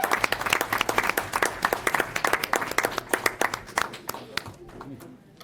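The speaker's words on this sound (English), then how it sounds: "let's give them all an enthusiastic round of applause." An audience at a Sacramento Regional Transit District board meeting gives enthusiastic applause, many hands clapping steadily in a room before the sound thins out and fades near the end.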